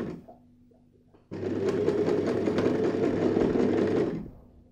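A sewing machine runs steadily at speed for about three seconds, stitching the end of bias binding onto a recycled handbag, a loud close whirring hum that starts abruptly and then winds down.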